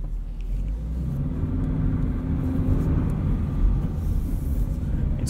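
A Subaru BRZ fitted with a Pedal Commander throttle controller rolls along at low speed, its engine and road noise forming a steady low rumble heard from inside the cabin, with no talking.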